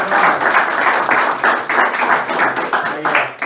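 A small crowd at a Lake Pleasant town board meeting claps steadily for several seconds, a close, fairly loud patter of hands in an indoor room.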